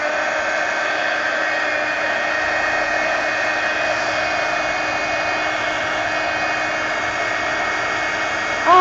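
A hair dryer runs steadily on an art page to dry freshly smeared turquoise and cream paint, giving a continuous, even whooshing hum held close for several seconds with no talking.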